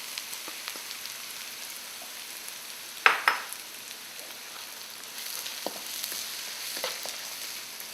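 Cayenne pepper fries in a pan for Kerala fish curry (meen pollichathu), a soft, steady sizzle broken by a couple of sharp clinks of a utensil against the pan.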